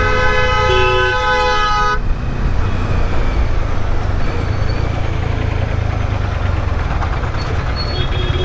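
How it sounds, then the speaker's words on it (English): Car horn of a Honda honking loudly and steadily for about two seconds amid dense Indian road traffic, followed by continuous engine rumble and traffic noise close by. "this Honda guy's honking"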